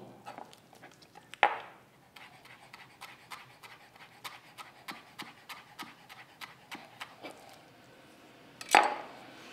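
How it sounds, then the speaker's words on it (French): A knife chops tarragon on a cutting board in quick, even taps, fairly quiet and close, with two louder thuds near the start and end. "je vais hacher un tout petit peu d'estragon"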